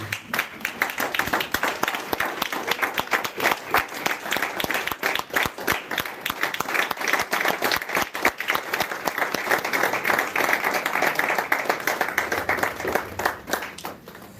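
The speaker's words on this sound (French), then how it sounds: "On acclame le Seigneur Jésus" A church congregation at a Paris worship service applauds together, producing dense, sustained clapping that fills the whole stretch at steady volume before tapering slightly at the end.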